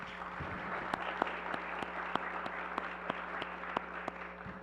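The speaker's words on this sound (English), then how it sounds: "Join me to a round of applause to thank our distinguished scientists for their time." Audience at a future-focused conference gives a round of applause for visiting scientists, a soft even patter of clapping with sharper distinct claps at a steady rhythm, heard from some distance.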